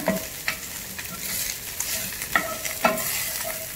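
Ingredients fry and sizzle in a pan for a brown stock, a continuous loud hiss close up, punctuated every half second or so by scraping stirs and knocks of a utensil against the pan.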